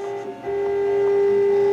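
A 3D printer prints a part for a computer case, giving a steady, close, tonal stepper-motor whine that settles into a continuous hum after a brief shift at the start.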